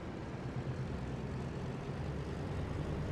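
Radial piston engines of a Douglas DC-3 in Microsoft Flight Simulator throttle up to taxi, giving a steady, dense low drone that holds evenly throughout.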